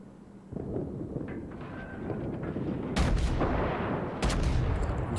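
Nassau battleship turrets firing in World of Warships, with two heavy booming salvos landing about a second apart over a steady low rumble of battle noise.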